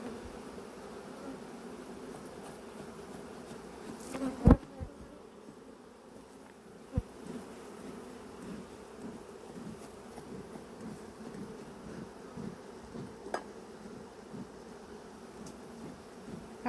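Honey bees swarm around an opened beehive, a steady, dense buzzing that hums continuously for the whole stretch, with a couple of brief knocks and rustles nearby.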